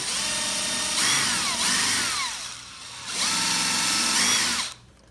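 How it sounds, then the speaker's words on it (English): Power drill fitted with a countersink bit boring into wood for a nightstand, two loud close bursts of whining high-speed drilling with a short pause between them and a sudden stop at the end. "this drill bit's got a countersink on it"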